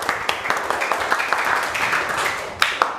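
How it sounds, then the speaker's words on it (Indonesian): Schoolchildren clap together in a classroom, a lively close-up burst of uneven hand claps with some loud individual smacks, a few young voices mixed in. "Beri tepuk tangan untuk kita semuanya."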